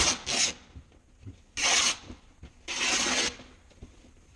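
Scissors cut cotton fabric into a long strip for a face mask, giving three rasping, rustling bursts of snipping close up, with quiet pauses between.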